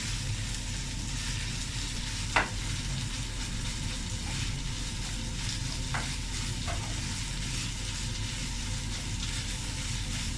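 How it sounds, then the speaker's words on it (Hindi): Constant sizzling of onions sautéing with ginger-garlic paste in a pan, with a few brief scraping clicks from stirring. "इसको 2 से 3 मिनट जो है वो हम सौते करेंगे अदरक लहसुन के पेस्ट के साथ प्याज़ों को"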